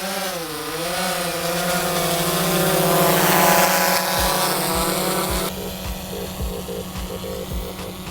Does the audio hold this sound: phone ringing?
no